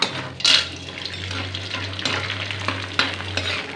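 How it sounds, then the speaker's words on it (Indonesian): Seblak krupuk crackers fry in hot oil, sizzling and crackling steadily with occasional stirring clinks and scrapes from a utensil in the pan, a low hum running underneath and no talking. "Saya mau goreng dulu kerupuk"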